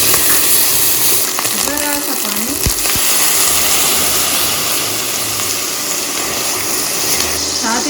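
Ginger garlic paste and a splash of water hit browned onions frying in a pan for khow suey, giving a loud, steady sizzle and hiss throughout, with faint background sounds layered in.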